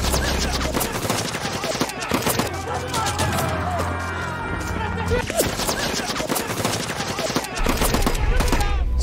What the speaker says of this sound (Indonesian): pasukan pemberontakan Phoenix pun tiba yang datang langsung menghujani musuh dengan tembakan